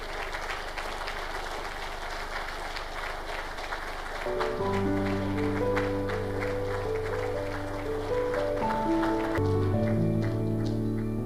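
An audience at a business forum applauding to welcome the speakers, starting as scattered clapping and then swelling into fuller, sustained applause in a large hall, with music entering partway through.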